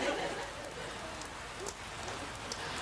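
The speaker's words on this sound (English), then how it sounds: "Raining again, Rob." Steady rain falls on surfaces with a soft, even patter and occasional louder drops, heard at a moderate distance as a quiet, continuous wash.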